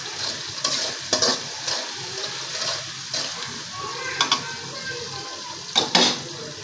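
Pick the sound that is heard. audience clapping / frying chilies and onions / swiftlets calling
frying chilies and onions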